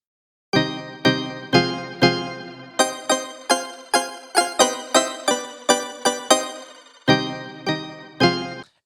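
A single sampled keyboard note struck again and again, each hit decaying quickly, in an uneven rhythm with brief pauses, loud and clear with no talking.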